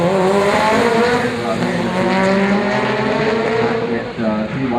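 Tuned DSM/EVO/GT-R drag racing car launching from the line and spinning its tires, a loud sustained engine roar with climbing harmonic tones and tire noise, close and continuous throughout.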